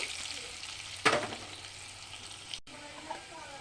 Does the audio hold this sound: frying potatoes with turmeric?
yes